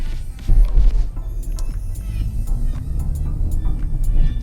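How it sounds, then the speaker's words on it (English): Peugeot 308 GTi 270 with its exhaust in sport mode, a deep, steady low rumble that swells briefly near the start and then holds close and loud without a break. "when you put it in sport, apart from the dash getting all angry, the exhaust gets angry too"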